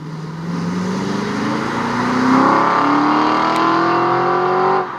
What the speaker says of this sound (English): Do love the sound of an Aston Martin.